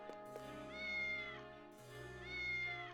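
A cat meows in a video game, two drawn-out tonal meows one after the other, clear and fairly loud over steady game music.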